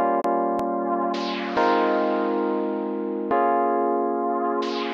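Sustained synth chords swell in backwards, each one rising then cutting off abruptly, with sharp clicks near the start.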